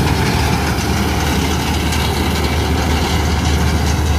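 A tractor engine, the kind hitched to a trolley and straw machine, idles at close range with a loud, steady low rumble and chugging throb that stays even throughout.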